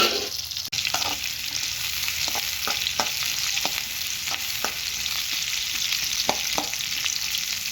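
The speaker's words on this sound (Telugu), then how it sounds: "ఆనియన్స్ హై ఫ్లేమ్లో పెట్టుకొని ఆనియన్స్ని బాగా ఉడికించుకోండి." Onions fry in oil over a high flame for a chicken curry, a continuous bright sizzle punctuated by regular scraping taps of a spatula stirring the pan, close and unbroken by speech.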